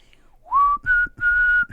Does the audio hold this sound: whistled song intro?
yes